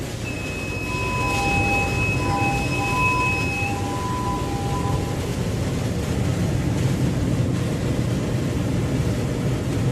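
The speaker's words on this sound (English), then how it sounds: "Run the engine for few seconds and check exhaust temperatures for all units are in line." A MAN B&W 6S60ME-C marine diesel engine runs with a loud, steady low rumble and dense machinery noise. Thin whining tones drift over it for the first few seconds.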